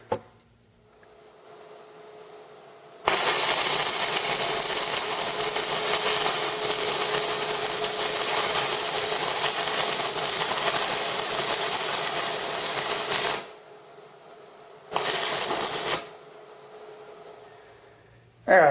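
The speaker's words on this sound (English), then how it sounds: "we'll go ahead and run a bead and kind of show you what it looks like" Stick welding with a DC 6011 electrode on steel plate: a loud, steady crackling arc hiss runs continuously for about ten seconds, cuts out, then a second short burst follows after a brief pause.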